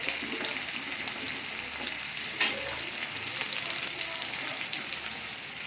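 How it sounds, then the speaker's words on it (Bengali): Vegetables, potato, carrot and other veg, sizzle and fry steadily in hot oil in a pan for a Bengali dish, a constant dense crackle with one brief louder spit partway through. "আর যদি এরকম ছিটকে আসে তো একটু নুন দিতে হবে"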